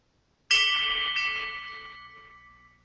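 A single bell-like chime set as a phone's calendar notification rings out once, bright and clear with layered metallic overtones, then decays slowly over about two seconds in otherwise silent surroundings.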